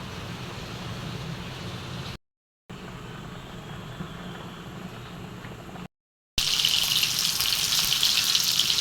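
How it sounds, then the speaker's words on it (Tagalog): Mung beans sautéing in a pan give a steady close sizzle in three sections split by short silences, the last much brighter and hissier. "Igigisa na po natin."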